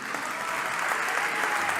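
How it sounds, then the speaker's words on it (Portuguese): A church congregation breaks into sustained, dense applause at a Portuguese-language worship service, the clapping steady and fairly loud with no voices over it. "Vocês podem aplaudir a Jesus."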